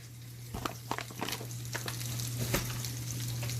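Butter and flour sizzle in a pan as the base of a cheese sauce, a steady close crackling fry with a few scraping stirs near the start, no talking.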